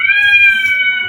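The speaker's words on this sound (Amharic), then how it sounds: "የዚህ ሀገር ዱርዬ ድመቶች።" Stray cats meowing outdoors: a single drawn-out, high nasal meow or yowl held for about a second, close and loud, with no speech over it.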